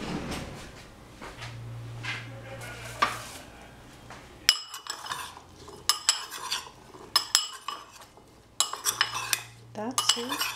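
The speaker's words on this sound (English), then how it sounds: "stir it" Utensils clinking and scraping against a bowl as a cucumber and olive salad with lemon is stirred, a quieter start and then sharp, rhythmic metallic clatters, no talking.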